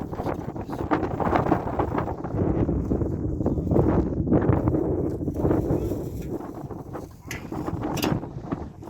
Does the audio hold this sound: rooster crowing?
no